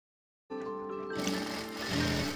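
A sewing machine starts up and runs steadily while stitching blouse puff sleeves, a close, even mechanical whir that speeds up slightly toward the end, with no talking.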